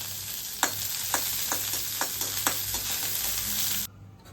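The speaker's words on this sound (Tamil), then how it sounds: "நல்லெண்ணெய் கொஞ்சமாக ஊற்றிக்கிறேன். கட் பண்ணால் பிரண்டையை போட்டு வதக்கிக்கலாங்க." Chopped pirandai (adamant creeper) sautéing in a little sesame oil in a hot pan: a steady bright sizzle with regular sharp scrapes of the spatula, about eight strokes, before the sound drops away abruptly.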